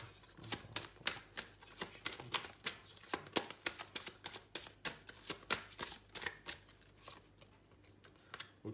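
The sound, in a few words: tarot cards being shuffled and drawn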